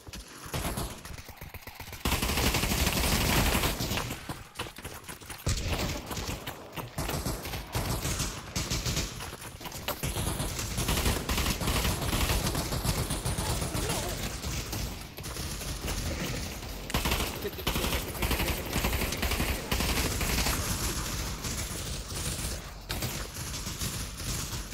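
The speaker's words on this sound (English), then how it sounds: "What am I being shot at?" Sustained gunfire in the Pavlov VR shooter, a dense, near-constant run of rapid shots and bursts that goes on almost without pause, loud and close, with only brief gaps.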